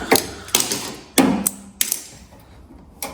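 Ratchet work loosening bolts on a VW T4 Doka scrapyard build: several sharp metallic clicks and knocks in a loose irregular rhythm, close and fairly loud, each ringing briefly, with no talk.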